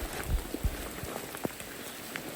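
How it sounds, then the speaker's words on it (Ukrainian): Warm, light rain patters softly on a raincoat in a wet Carpathian forest, with scattered faint drips and taps over a steady low hiss and no voices. "Насправді дощ досить теплий, не є холодний дощик. Потихо накрапає по плащу."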